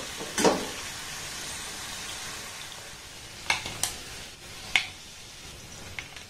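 Palm-fruit pitha cakes are lifted one by one out of sizzling frying oil, with a steady broadband sizzle underneath and a handful of sharp clinks and scrapes from a utensil against the pan.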